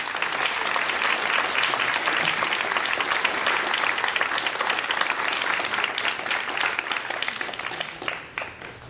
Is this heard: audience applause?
yes